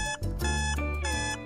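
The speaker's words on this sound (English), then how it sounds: "let's try the alarm" A website's alarm tone plays as a bright, harmonic-rich electronic ringing in repeating bursts, loud and continuous, with no voices over it.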